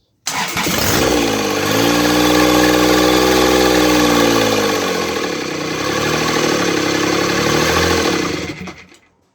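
A Kubota D722 diesel engine fires up after repair and runs steadily with a loud, close mechanical clatter and hum, the pitch rising and settling before it shuts off and fades near the end.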